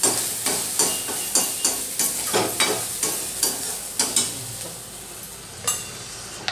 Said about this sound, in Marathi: मिरची परतून घेतली आहे